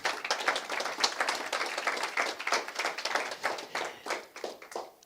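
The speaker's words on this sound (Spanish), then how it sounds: "Un aplauso a la palabra de Dios." A church congregation claps in a brisk, uneven burst of many hands, the applause thinning and tapering off over a few seconds.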